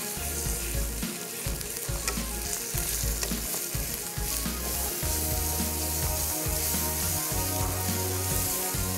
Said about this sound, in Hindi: और फिर एक दफ़ा पे 2 से 4 मिनट इसकी सही से भुनाई करनी है।